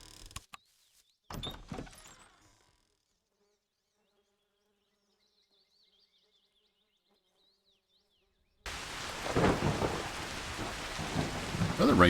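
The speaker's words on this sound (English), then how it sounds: "Another rainstorm overnight." Thunderstorm rain from the farming video game Cattle and Crops comes in short loud bursts of hiss and rumble, drops to near silence, then returns as steady, heavy rain noise.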